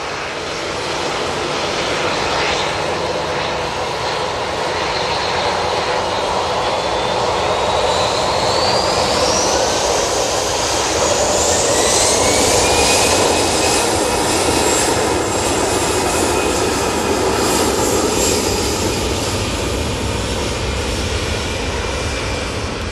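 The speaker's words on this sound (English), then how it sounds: "Just had that Etihad 777 go out" Etihad Boeing 777 jet departing Manchester Airport, a sustained loud engine roar with a rising whine that peaks midway and then holds, with no voices.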